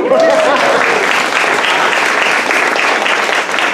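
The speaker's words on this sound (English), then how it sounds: "Another round of applause, yeah?" Loud, sustained applause from a summer theater audience, dense and steady throughout, with a brief voice or cheer rising near the start.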